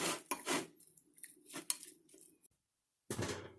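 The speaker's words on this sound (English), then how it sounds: "And then stir, stir, stir" Cooking oil and food being stirred in a pan for shrimp scampi, with close clinks and scrapes of a utensil against the metal, a brief silent gap, then another burst of scraping.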